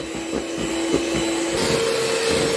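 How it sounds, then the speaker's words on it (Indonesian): Electric mixer running at high speed through lapis legit cake batter made with ten eggs and prunes, a steady loud motor whine with churning beater noise, continuous and close with no talking. "Mixer lagi dengan kecepatan tinggi sampai benar-benar mengembang."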